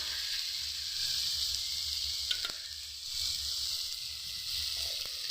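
Tomatoes sizzle in a pan as ground ginger paste is added, a soft, steady frying hiss with faint stirring clicks and no talk.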